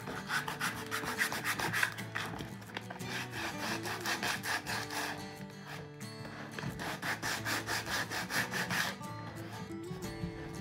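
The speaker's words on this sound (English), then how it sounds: "I took sandpaper and I sanded the whole entire cheese box." Steady back-and-forth rasping of sandpaper on a wooden cheese box, repeated strokes in a fast rhythm, close and fairly loud, with a short pause midway.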